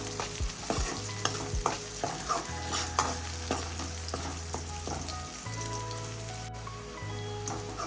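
Green chillies sauté in hot oil with onions for a Gujarati vagharelo rotlo, giving a steady close sizzle and frying crackle with occasional spoon stirs and scrapes, with a faint low hum underneath.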